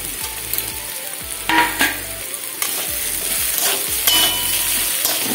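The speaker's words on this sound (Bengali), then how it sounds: "চিচিঙ্গা আমার অনেকটাই ভাজা হয়ে গেছে, ভাজা হয়ে গেছে। এবার দিয়ে দিচ্ছি কুচানো লঙ্কা।" Snake gourd frying in a pan as chopped green chillies go in, loud continuous sizzling broken by several scraping stirs of a spatula against the pan.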